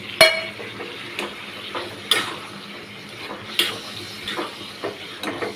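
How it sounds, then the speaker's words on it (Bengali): Fried paneer goes into chilli gravy and is stirred in a pan, giving a soft simmering sizzle punctuated by several sharp clinks of a utensil against the pan at irregular intervals. "গ্রেভিটা হয়ে গেছে, এবার পনিরগুলো দিয়ে দেবো"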